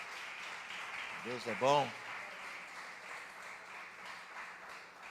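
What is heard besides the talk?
congregation applause for all mothers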